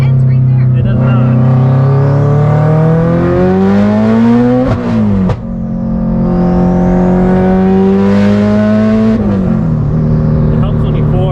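A 9-second Subaru STI accelerating hard, its engine revving loudly and climbing through rising pitch sweeps, dropping briefly at a gear change before pulling up again, close and dominant from inside the car.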